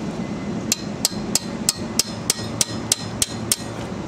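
A hammer strikes a brake caliper during brake pad replacement on a Nissan Sentra, with eleven sharp metallic blows at a steady, even pace, close and clear with no talking.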